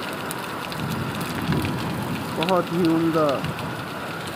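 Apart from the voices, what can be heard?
heavy rain falling in Medina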